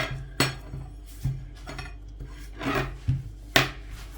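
Repeated rasping, rubbing strokes of a wooden rolling pin pressing and sliding over a rested börek dough sheet, with soft knocks between passes, close and fairly quiet.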